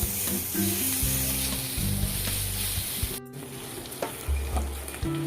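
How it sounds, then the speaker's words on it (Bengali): Chicken 65 pieces fry in hot oil with grated ginger and garlic, a steady close sizzle with stirring scrapes and a brief sharp clatter partway through, no speech. "আদা রসুন দিয়েও খুব ভালো করে ভেজে নিতে হবে।"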